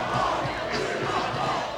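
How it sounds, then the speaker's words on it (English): Crowd at an NCAA college dunk contest roaring and cheering loudly, a dense sustained wall of voices with shouts rising through it, close and continuous. "And the crowd wants more."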